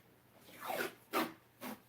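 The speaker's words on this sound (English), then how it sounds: "I'm just going to put tape down right in this area that we're going to use it in." Blue painter's tape being pulled off the roll and pressed down on a work surface: three quick ripping, zipper-like strips. The first is drawn out, the next two are short and sharp, all close and fairly quiet, with no talking.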